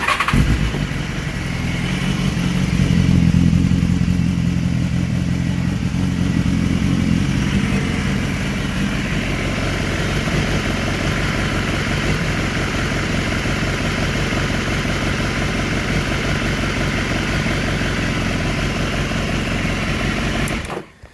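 A 2015 BMW S 1000 RR sport motorcycle engine fires up and runs at a loud, steady, buzzing idle throughout, with a rough low rumble and no talk, cutting off at the end.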